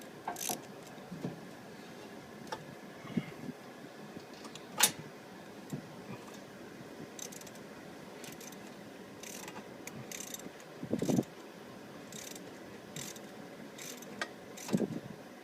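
A wrench clicks in sparse, quiet ticks while a bolt is tightened on a 20 kW Briggs & Stratton whole-house generator during a tune-up, with a few sharper metallic clacks over a faint background.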